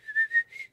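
A person whistles to imitate a video game character's whistle, three short bright tones in quick succession, close and clear, with no speech.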